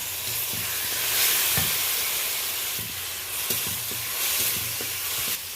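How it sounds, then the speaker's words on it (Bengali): Grated tomato frying with onion in a pan: a continuous soft sizzle and hiss, with irregular stirring scrapes and knocks at intervals, fairly quiet and close, no talking. "এবার গ্রেট করা একটা টমেটো আমি দিয়ে দিলাম।"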